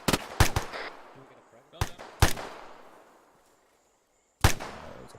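Arma 3 infantry combat: a handful of sharp, loud blasts and gunshots crack out in uneven bursts, separated by quiet gaps, with one heavy detonation near the end.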